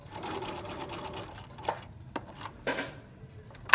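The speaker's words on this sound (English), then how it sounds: "Let me go ahead and back stitch." Domestic sewing machine back-stitching the seam of a pillow, a soft steady whirring run for over a second with brief clicks and bumps as it reverses and stops, close and fairly quiet.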